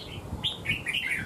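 Birds chirp repeatedly outdoors in the sun, several short bright tweets close by over a steady background hiss.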